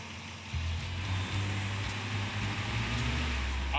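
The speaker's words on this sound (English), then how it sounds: "All I hear is valve train now." Idling Chevy engine in a gasser race car, a steady low rumble with ticking valve train noise running evenly throughout, close and alone with no talk.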